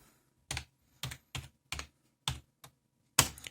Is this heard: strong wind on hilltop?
no